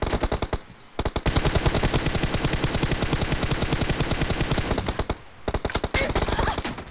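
Rapid automatic gunfire in a tournament shooter game, loud, sustained bursts of fast shots with two short gaps between them, no talk.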